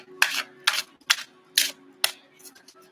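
Tarot cards are pulled and snapped from a deck, five or six crisp, papery flicks in a steady rhythm about half a second apart, close and clear over a faint steady hum.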